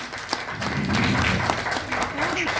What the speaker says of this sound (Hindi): इनके लिए भी तालियां बजनी चाहिए